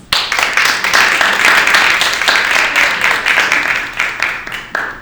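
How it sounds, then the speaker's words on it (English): A panel audience applauds to welcome the panelists, a dense, steady wash of many hands clapping that holds loud across the whole stretch, with a few sharper claps standing out and no voices on top. "let's welcome our panelists with a big round of applause"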